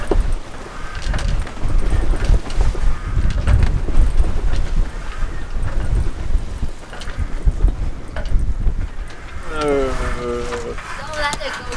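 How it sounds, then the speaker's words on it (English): Strong wind blows across a sailing boat at sea, a steady loud rush of gusts and microphone buffeting with water sounds, while people talk over it. "The wind has arrived!"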